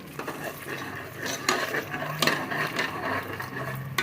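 Ginger garlic paste frying in a pan while a utensil stirs and scrapes the bottom, giving a soft sizzle under repeated sharp metal-and-wood clinks and scrapes at an uneven pace, close by.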